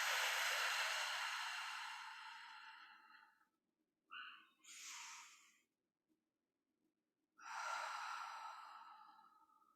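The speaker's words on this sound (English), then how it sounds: "Nice deep breath." Deep, slow breaths during a seated stretching exercise: a long airy exhale, then short inhales, and another drawn-out breath, close to the microphone with no talking.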